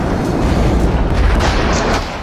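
Russian bombing strikes Ukrainian cities in a loud, dense, sustained roar of blasts and rumble, heavy low-end booming continuing without a break across the whole stretch.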